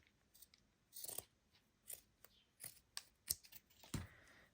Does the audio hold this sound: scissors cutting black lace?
yes